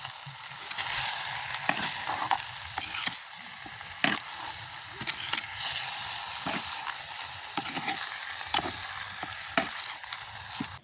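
Hunted game meat frying in a village cooking pot as salt is stirred in, giving a steady close sizzle broken by repeated scraping stirs of a spoon against the pot, with no voices.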